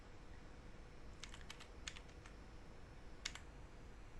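Keys clatter on a computer keyboard as an address is typed into a browser, a short burst of quick separate clicks followed by a lone tap after a pause, all over a faint background hiss.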